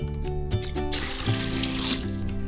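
Freshly scooped seawater pours into a container of clams for a second round of purging, a steady splashing gush of running water heard close up with no talk.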